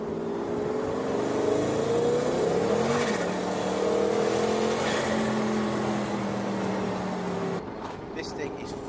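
Engine of a 2010 Noble M600 sports car accelerating, a loud, close drone with rising and falling harmonic tones through gear changes, then settling lower near the end.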